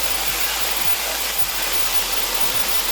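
A handheld blow dryer with a sock stretched over the nozzle as a makeshift diffuser gives a steady, loud, airy roar that never lets up, with a few faint low thumps underneath.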